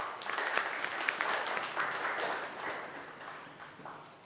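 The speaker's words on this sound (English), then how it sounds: "Let us clap for them." Audience applause at a university human rights club debate competition in Mwanza, Tanzania: moderately loud, steady clapping from a crowd across the whole stretch, gradually tapering off toward the end.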